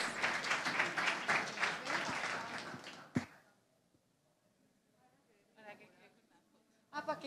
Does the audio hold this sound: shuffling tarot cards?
no